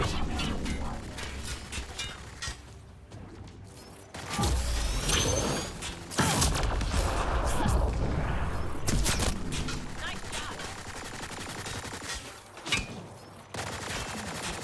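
Rapid gunfire from the Mass Effect Andromeda video game, dense bursts of shots and clattering weapon noise that come and go over about fifteen seconds, with voices present in the mix.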